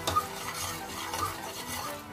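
Green pigeon peas are stirred into frying spices in a pan, with a spoon scraping and stirring rhythmically over a soft sizzle at moderate volume.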